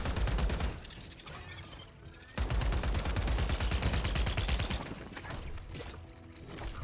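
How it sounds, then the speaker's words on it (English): Rifle fire in the sci-fi shooter Wildgate, aimed at boxes: dense bursts of rapid shots, loud and close, with a brief pause before firing resumes and then tapers. "I'm shooting at those boxes there just to make sure I don't have something stuck in my barrel"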